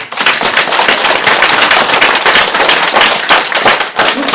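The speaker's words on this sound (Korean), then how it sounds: "박수 좀 쳐" A crowd at a Buddhist Diamond Sutra sermon claps loudly and densely. The rapid crackling runs unbroken through the whole stretch with no talk over it.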